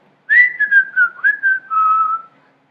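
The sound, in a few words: human whistling imitating a flute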